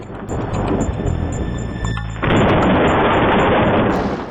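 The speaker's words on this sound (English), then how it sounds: "Upgraded lightning towers really do a lot of damage." Upgraded lightning towers strike in the tower-defense game Zombie Tower, a harsh crackling, thunder-like burst that runs continuously and loud, swelling sharply about halfway through, with no talk over it.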